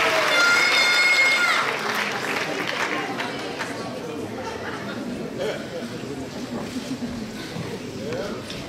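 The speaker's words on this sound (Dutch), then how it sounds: "Uw applaus voor Jana Breugelmans." Audience at the Miss Fashion 2017 pageant final claps for a winner, a loud burst of applause with cheering that tapers to a softer, lingering patter as people talk through it.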